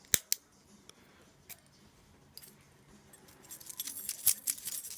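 Small metallic clicks and scrapes of a key working an old Yale wafer-core padlock, sparse sharp ticks at first, then a denser run of jingling, rattling clicks toward the end.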